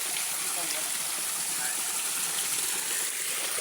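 Waterfall in the mountains, a loud, constant rushing roar of falling water with no pauses.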